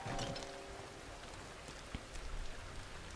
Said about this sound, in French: La pluie la plus disciplinée de l'univers qui s'arrête net sur le toit